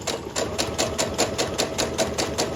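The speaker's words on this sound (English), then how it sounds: "I'm letting the sewing machine do all the work" A sewing machine stitching fabric runs at a slow, even pace, its rapid regular needle clatter repeating steadily and close up, with no talk over it.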